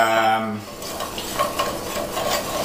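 Garlic cooking in olive oil in a pan over low heat makes a soft, continuous sizzle with light stirring and scraping after a short tonal sound at the start.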